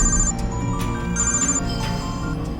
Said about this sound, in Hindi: उसके फोन पर डीएसपी का फोन आ रहा है भाई।